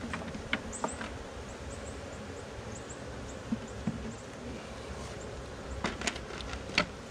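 A steady, diffuse buzzing of many honey bees during an October hive check, with a few brief clicks and knocks rising above the hum.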